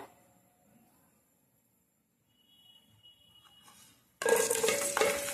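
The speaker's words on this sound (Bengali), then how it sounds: "এখন আমি পেঁয়াজটাকে ভেজে নেব" Onion frying in a kadai: near silence with faint kitchen noise, then an abrupt loud sizzle that keeps crackling to the end.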